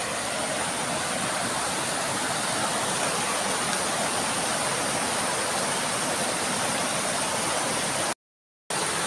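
River water flowing steadily, a dense, loud, unbroken rush like close-up running current, continuous throughout with a brief dropout near the end and no talk.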